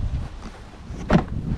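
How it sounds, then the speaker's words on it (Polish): Gusty outdoor wind buffets the microphone with a steady low rumble, swelling into one stronger gust partway through. "Wiatr wieje."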